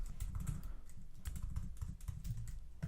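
Rapid, uneven clatter of fingers typing on a computer keyboard, close and fairly quiet, continuous with no voices.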